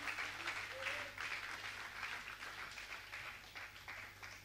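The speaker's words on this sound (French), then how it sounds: "Si tu m'as compris, donne une acclamation bien forte." Congregation applause and acclamation at a church service, a steady wash of clapping with some vocal cheering, moderately distant and fairly faint, continuing evenly throughout without a lead voice.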